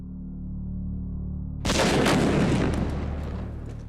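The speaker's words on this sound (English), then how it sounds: "The Matador's second explosion has done serious damage to this building." Steady low hum, then a sudden loud wall-breaching explosion about midway, blasting through concrete, that rumbles and decays with scattered debris crackle.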